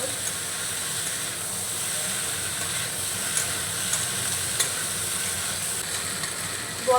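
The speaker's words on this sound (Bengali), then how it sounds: "খুব সুন্দর করে কষিয়ে নিয়েছি আমি বরবটিটা" Yardlong beans sauté in a pan over a gas flame, giving a steady soft sizzle and hiss with faint stirring clicks throughout.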